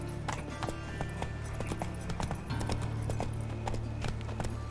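Roach the horse gallops in The Witcher 3, rapid rhythmic hoofbeats clattering steadily and up close over low game ambience.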